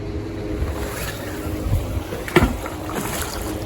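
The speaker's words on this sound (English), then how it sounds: "Oh, that was a very satisfying splash." A magnet dropped into shallow water while magnet fishing makes a single brief splash that stands out above steady outdoor background noise, with a quieter disturbance of the water just before it.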